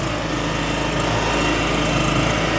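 An ERGO EGS2800 petrol generator, rated 2800/2500 W, runs steadily just after its first start, a loud, even engine drone with a constant hum and no talk over it.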